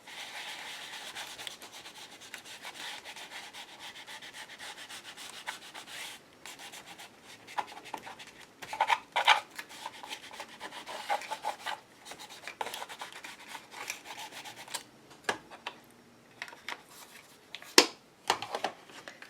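A sanding block rubs across paper in faint, scratchy strokes, a soft continuous hiss broken by irregular louder scrapes and a few sharp ticks, close by and quiet.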